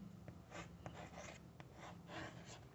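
Pen or chalk scratching steadily during a Hindi-language English grammar lesson, short strokes in an irregular rhythm, close and fairly quiet with no talking.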